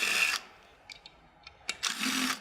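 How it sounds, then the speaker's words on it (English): Power tool spinning out the bezel mounting bolts on a KTM bracket with a 4 mm Allen bit: two loud whirring bursts, one at the start and one at the end, separated by a quieter gap with a few light clicks. "We're going to use a power tool for speed in the video here."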